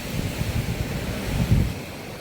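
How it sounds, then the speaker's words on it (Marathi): Ocean waves surging and crashing against rocks, a rough low roar building to a heavier crash, with wind buffeting the microphone. "मित्रांनो लाटा बघ किती जोर आपटते दगडाला"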